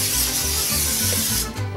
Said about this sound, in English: So what we're gonna do is we'll spray this down a little bit.